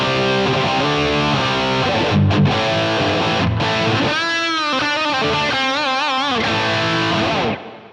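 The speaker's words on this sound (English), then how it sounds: "I want to put a tube screamer in front of it." Electric guitar run through a Line 6 POD Express with a tube screamer pedal modeled in front of a Friedman amp, giving a loud, sustained overdriven tone with chords and then bending lead notes that ring out before fading near the end.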